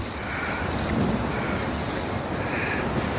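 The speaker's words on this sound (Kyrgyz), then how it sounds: "Каптап атат суу." Floodwater from a mudflow rushes over the ground near houses by Lake Issyk-Kul, a steady, broad roar of churning water that holds loud and unbroken throughout with no clear voices.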